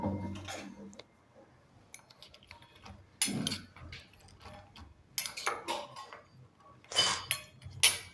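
Tamarind-jaggery masala being mixed into chakali dough: intermittent clinks and scrapes of a utensil against a bowl in short bursts separated by quiet gaps, close by and without speech.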